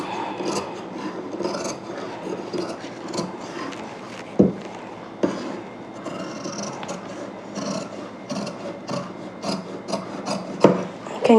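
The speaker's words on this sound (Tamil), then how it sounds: "இப்போ அப்படியே இந்த இடத்தையும் நான் கட் பண்ணிக்கிறேன்." Scissors cut through old saree fabric being turned into a kurti set, giving a steady run of close rasping snips and cloth rubs with a few sharper clicks, with no talk.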